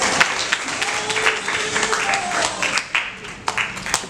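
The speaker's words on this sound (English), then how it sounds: "Give yourself a hand clap." Scattered hand claps from a small church congregation, irregular and moderately loud, over a murmuring room.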